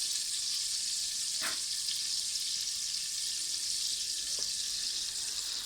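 Onion paste fries in butter and oil with a steady, bright hiss and sizzle close up, broken once or twice by a brief stir or clink.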